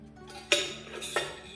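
A heavy stainless steel puttu steamer vessel is handled, giving two distinct metallic clinks about half a second apart, close and fairly quiet, with ringing resonance after each hit.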